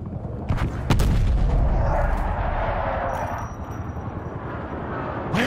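Gunfire from the Call of Duty Cold War video game: a sharp loud shot near the start followed by sustained booming, rumbling battle noise that fades slightly toward the end, with no talking.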